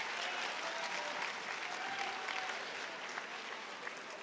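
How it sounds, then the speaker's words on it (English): An audience applauds the poet Richard Blanco at a lecture event, a steady, dense wash of clapping that runs evenly throughout without a break or any voice over it. "Clap it up for him."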